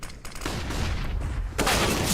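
Rapid gunfire rings out in a professional Counter-Strike match on Mirage, with NIP facing Vitality. A loud burst of shots lands close, with no commentary voices over it.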